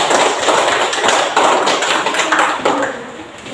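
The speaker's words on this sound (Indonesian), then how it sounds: "aplaus dulu untuk kelompok 3" A group at an academic coaching session claps for one of the teams: a dense burst of applause that lasts throughout, close and fairly loud.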